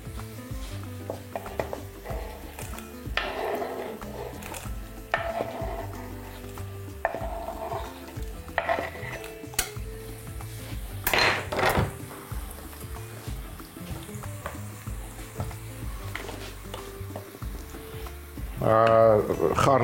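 Beef and vegetables stirred and frying in a pot for beef and bulgur soup: a steady sizzle runs throughout, broken by repeated scraping stirs and clanks of a utensil against the metal, with a louder clatter near the end.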